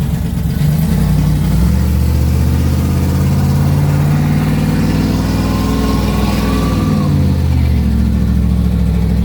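A car engine accelerating and revving loudly, with shifting engine tones throughout and a thin rising whistle that sweeps up midway before fading, recorded from inside the vehicle.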